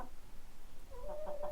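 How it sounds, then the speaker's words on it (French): Hens clucking inside a dark chicken coop, a few soft low clucks followed by a short rising call near the end, fairly close and quiet with no talk. "on peut voir que mes poules sont là"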